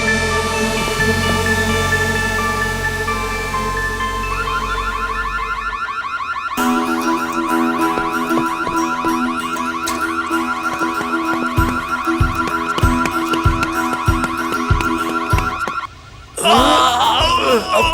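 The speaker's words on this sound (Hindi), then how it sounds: "ये स्पीकर तो काफी लाउड है। सिक्योरिटी अलार्म है," A security alarm blares loudly and continuously, cycling through shrill warbling and pulsing tones for the whole stretch with a brief break near the end, heard indoors in a Turkish drama scene.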